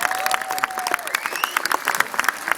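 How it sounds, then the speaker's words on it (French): Enthusiastic audience applause, a dense burst of clapping from a crowd, loud and close, lasting a couple of seconds. "Donc, merci. Ça s'applaudit."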